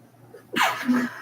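A single close, loud sneeze comes after a brief breathy intake and trails off into a short exhale.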